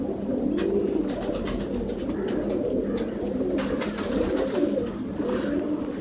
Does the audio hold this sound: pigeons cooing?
yes